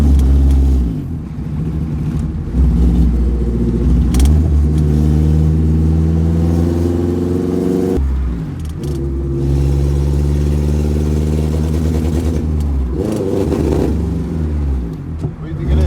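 A car fitted with Spoon Sports parts revs hard on a highway pull, its engine loud and close, climbing through the gears in repeated rising sweeps with brief drops at each shift, while voices talk over it.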